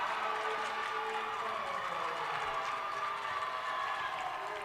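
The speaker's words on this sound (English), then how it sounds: "And the crowd on their feet now." A basketball crowd in a college gym roars and cheers after a made three-point shot, a loud, sustained wash of voices and clapping that holds steady throughout.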